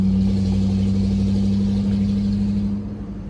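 A Ford Mustang 3-valve engine hums and rumbles steadily at a raised idle, close and loud, then eases off slightly near the end; its throttle body needs adjusting and sometimes won't pass 2,000 rpm.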